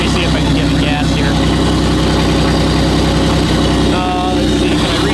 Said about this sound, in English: Yeah, it's got a slight misfire swing.